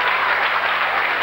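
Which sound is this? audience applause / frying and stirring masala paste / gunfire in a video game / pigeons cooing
audience applause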